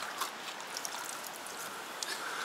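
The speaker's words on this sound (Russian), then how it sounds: "Вот смотрите, здесь есть источник" Water from a natural drinking spring in Uzbekistan trickles and burbles steadily close by, a soft continuous babble with light splashy detail and no voices.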